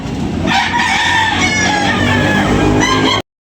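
A White Kelso rooster crows loudly and close at a farm animal market, one long drawn-out call filling most of the moment, with a second rising phrase near the end before it cuts off.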